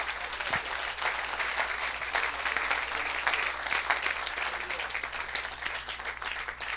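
Sustained applause from a church congregation at an evangelistic service, dense and steady clapping filling the whole stretch with no pause, moderately loud and close.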